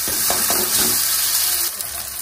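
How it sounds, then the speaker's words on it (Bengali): Chopped tomatoes with salt and turmeric fry in a pan, giving a steady, close hiss of sizzling with faint stirring. "এবার দিয়ে দেবো টমেটো কুচি, লবণ, হলুদ গুঁড়ো। টমেটোটা যতক্ষণ না নরম হয় ততক্ষণ ভেজে নেবে।"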